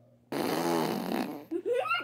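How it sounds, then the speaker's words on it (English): A loud, sputtering fart lasting over a second, followed by a brief burst of laughter-like voice sounds. "Did you just fart?"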